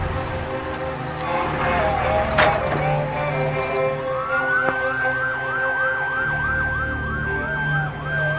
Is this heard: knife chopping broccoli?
no